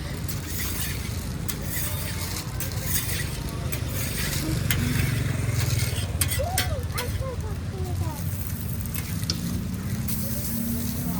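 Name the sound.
chicken and beef burger patties frying at Malaysian street stall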